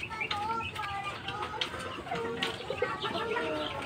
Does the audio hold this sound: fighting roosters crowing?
yes